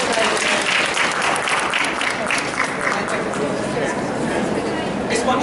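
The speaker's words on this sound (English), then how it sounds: "Give a round of applause, guys." A hypnosis talk audience at a psychic expo breaks into continuous applause, a thick, even wash of many hands clapping at a steady level throughout, with faint crowd murmur mixed in.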